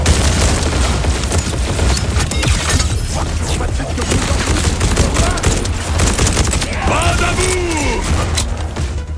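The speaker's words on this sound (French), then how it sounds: "Explosion." Loud video-game explosions and booms amid continuous gunfire, a thick rumbling battle din throughout, with a few sliding whine-like tones near the end.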